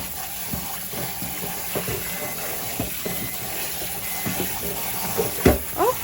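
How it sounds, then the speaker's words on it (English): Cold tap water runs over cooked beans in a sink, a steady splashing hiss broken by small irregular clatters and sloshes, close by, with a louder splash near the end. "I'm going to take cold water and rinse this to stop the cooking."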